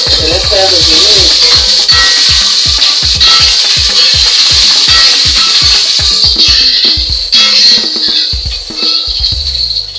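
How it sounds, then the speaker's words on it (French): Onions frying in hot oil, a loud, steady sizzle with a run of rhythmic scraping stirs and rattling of the pan all the way through; a voice is briefly heard at the start. "Une fois que l'huile a chauffé, nous allons ajouter les oignons."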